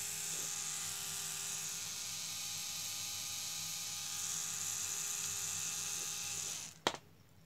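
A 10 RPM DC gear motor turns slowly with a steady, even electric whine and hum that runs unbroken, then ends with a short click or knock near the finish.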